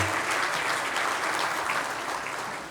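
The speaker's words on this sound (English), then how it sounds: "You can clap for all of them." An audience at a county civic luncheon breaks into steady applause, a dense, even clatter of many hands that slowly fades over a few seconds.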